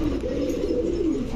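A Lotan pigeon at a pigeon farm gives a low, throaty coo that wavers and rolls on steadily for the whole short clip, close by and fairly loud over a faint background hum.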